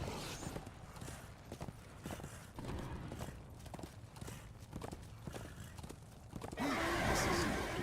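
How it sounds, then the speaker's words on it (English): A horse in the video game Darksiders 2 walks with repeated clip-clop hoof steps, then lets out a loud whinnying neigh near the end, mixed with game ambience. "This is no place for a horse."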